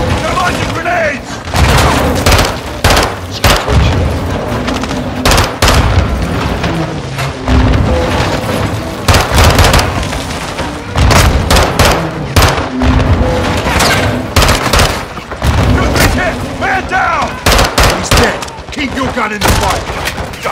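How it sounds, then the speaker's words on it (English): Heavy gunfire and grenade explosions fill a Call of Duty Modern Warfare II battle, with dense bursts of shots and booming blasts throughout, loud and continuous, while soldiers shout over the fighting. "Incoming! Take cover! They're launching grenades!"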